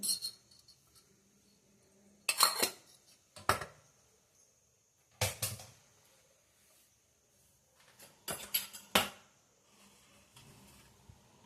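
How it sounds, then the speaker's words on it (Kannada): Solid ghee is spooned into a bowl in a quiet kitchen, heard as several separate bursts of scraping and clinking of a spoon against the bowl between silent gaps. "ಬಟ್ಲಿಗೆ ಒಂದು ಮೂರು ಸ್ಪೂನು ತುಪ್ಪ ಹಾಕ್ಕೊತಾ ಇದ್ದೀನಿ"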